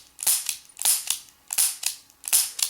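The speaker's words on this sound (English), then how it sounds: "I just shot my 5 shots" Four sharp, high-pitched cracks from a stainless Ruger New Model Blackhawk revolver firing .357 Magnum, each followed by a quick echo, spaced about half a second apart and heard alone without talk.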